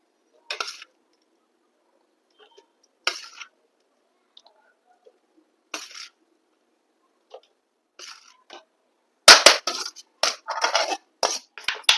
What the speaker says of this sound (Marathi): त्या बरणीमध्ये व्यवस्थित आपण भरून ठेवूया